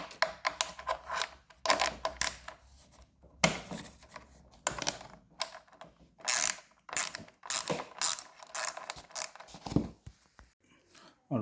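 A ratchet wrench clicks in quick bursts as bolts are backed out of a vehicle's side step rail, close and fairly loud, with short pauses between runs and light clatter from handling parts.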